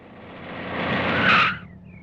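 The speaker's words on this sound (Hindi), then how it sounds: "ड्राइवर गाड़ी रोको।" A car brakes hard to a stop with a rising tire skid and squeal that peaks loudly after about a second and then cuts off, leaving a short faint tail.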